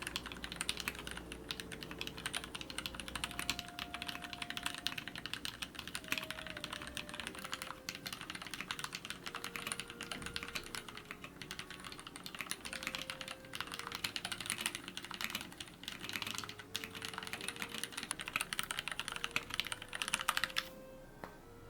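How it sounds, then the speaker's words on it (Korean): Stock mechanical keyboard being typed on continuously, a rapid stream of close clicks and clacks of varying rhythm, with faint background tones underneath. "순정 상태에서는 키보드를 체크하기 좋습니다."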